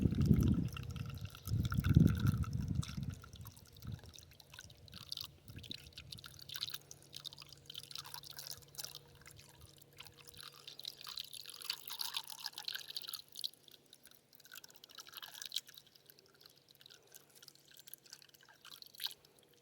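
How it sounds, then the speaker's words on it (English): Nutrient solution being poured into measured water for a hydroponics garden, a low splashing pour at the start followed by quieter trickling and dripping, fairly close and alone. "So I just pour it in."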